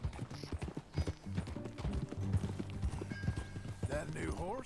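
Horse hooves clip-clopping at a steady rhythm while riding in Red Dead Redemption 2, close and clear under game music and a voice.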